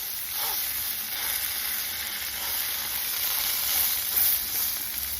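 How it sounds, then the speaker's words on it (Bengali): Two pieces of fish fry in hot oil in a home kitchen, giving a steady, close crackling sizzle that holds evenly throughout with no one speaking. "তো দু পিস মাছ ভেজে নিচ্ছি"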